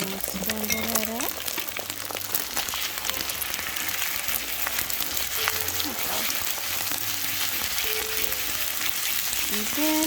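Egg scrambling in a hot frying pan for Hawaiian fried rice, a steady close sizzle with scraping stirs throughout, alongside intermittent tonal kitchen sounds.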